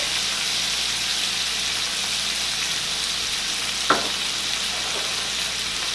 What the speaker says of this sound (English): Now we're just going to add in our garlic.